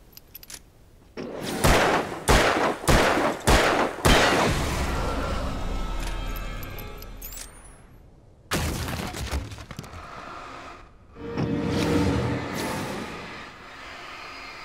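Gunfire in the video game Alan Wake: a rapid run of loud, sharp shots, then a long ringing decay, a later loud burst and a swelling rumble, all close and punchy.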